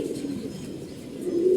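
Pigeons coo in a loft, a low steady murmur of overlapping calls that swells slightly louder toward the end, with no talking.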